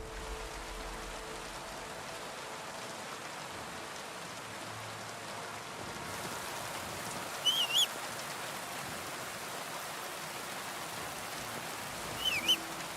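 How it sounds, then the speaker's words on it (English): Steady rain hisses on surfaces throughout a Kingdom Come Deliverance 2 game scene, an even wash of drops that carries on unbroken, with a couple of short bird chirps showing up briefly partway through. "I love the sound of rain."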